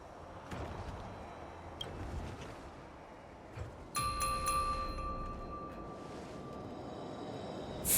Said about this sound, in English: We could try ringing the harmonic chime.